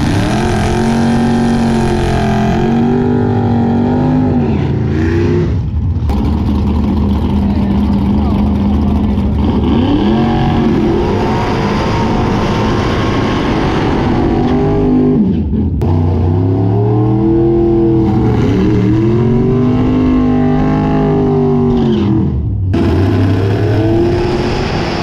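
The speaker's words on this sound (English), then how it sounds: "So today we are doing a video specifically on burnouts" Mopar cars do smoky burnouts at Northern Michigan Dragway, loud engines roaring and revving in repeated long surges with rising and falling pitch, close by and dominating, with occasional voices in the background.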